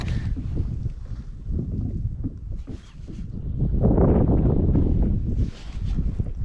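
Wind blowing across a boat on open water during fishing, a steady broadband rush with microphone buffeting that swells louder midway and then eases, with no talking.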